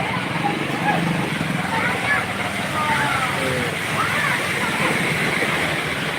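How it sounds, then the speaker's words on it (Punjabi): Floodwater rushes in a steady, loud roar through a flooded road in Khuian Sarwar, Punjab, as rain falls during a heavy downpour. The dense, continuous wash of water fills the whole scene without letting up. "ਮਜਬੂਰੀ ਹੈ ਪਾਣੀ ਦੇ ਵਿੱਚ ਲੰਘਣਾ ਔਰ ਬਾਰਿਸ਼ ਹਲਕੀ ਘਟ ਗਈ ਹੈ"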